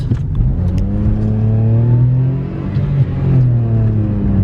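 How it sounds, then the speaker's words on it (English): A Citroen car's engine revs hard under heavy throttle, loud and close, its pitch climbing in repeated rising sweeps with a brief dip between pulls. "I put my foot down quite hard there in the Citroen."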